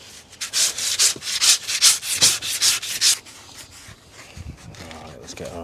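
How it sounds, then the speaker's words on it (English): A farrier trims horse hoof pads with a rasp, about a dozen rhythmic, loud scraping strokes close at hand, then a quieter stretch with faint handling sounds; a voice speaks briefly during the rasping. "you can trim them up with your rasp after like that."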